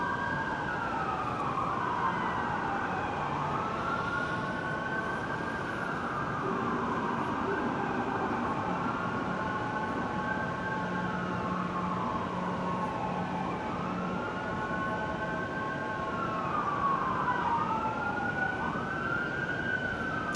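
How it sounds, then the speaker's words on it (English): A siren wails in a repeating rise-and-fall pattern over a constant rumbling background. It is moderately loud and continuous for the whole stretch. "It was that siren going off 2 years straight."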